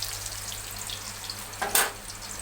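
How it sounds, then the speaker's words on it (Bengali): Pumpkin flower fritters frying in a wok: a faint, even hiss of hot oil with one brief sharper spatter burst near the end. "মিষ্টি কুমড়োর ফুলের মিষ্টি কুমড়োর বড়া ভেজে নিচ্ছে কড়াইয়ে"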